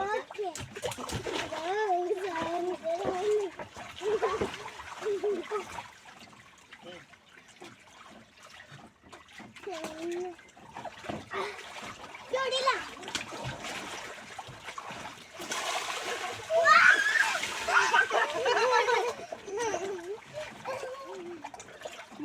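Water splashing and sloshing in a swimming pool, with children talking and shouting throughout and a louder burst of splashing near the end.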